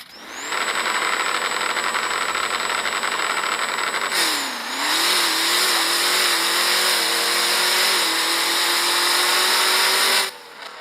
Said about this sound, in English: I'm running the big block twin turbo setup, 6-speed,